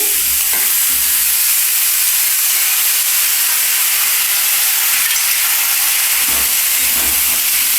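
Chunks of elephant foot yam dropped into hot oil set off a loud, steady sizzle and hiss, with a few low bumps of stirring, all continuous with no voices.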